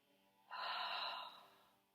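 A single deep breath during a slow-flow yoga session, a soft breathy rush that swells in, holds briefly and fades out against a quiet room.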